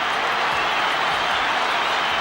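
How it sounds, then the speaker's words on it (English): Essendon Bombers fans roaring and applauding at an AFL grand final, a dense, steady wash of crowd noise and clapping filling the whole stretch with no break. "Listen to that crowd."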